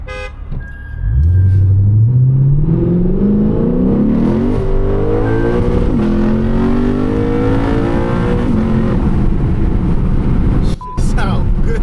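500HP Lexus RC F engine revving hard while driving on backroads, loud and close, climbing steadily in pitch through gears with a sustained roar and a brief dip near the end.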